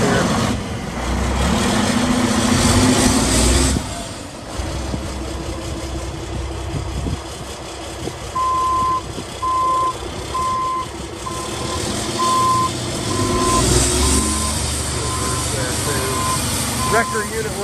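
A 2006 Mack Vision CXN613 wrecker truck idles and shifts between forward and reverse, its diesel rumbling steadily up close while a regular series of evenly spaced reversing beeps sounds, with someone talking over it.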